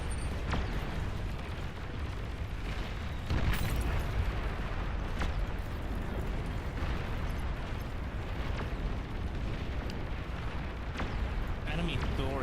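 Heavy explosions and artillery bursts in the real-time strategy game Beyond All Reason as an enemy commander is destroyed, loud repeated booms layered over a constant roaring battle rumble, with speech mixed in.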